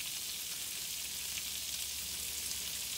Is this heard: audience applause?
no